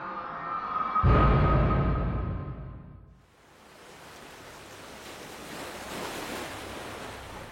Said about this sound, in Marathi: दूरवरून समुद्राची गाज ऐकू येत होती